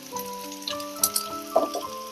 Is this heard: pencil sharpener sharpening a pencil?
no